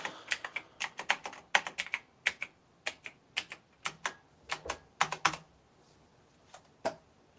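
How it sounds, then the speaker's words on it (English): Rapid keystrokes clatter on a computer keyboard in quick irregular bursts, close and crisp, with short pauses between flurries and no voices. "I am trying to type as fast as possible. And it's just this keyboard."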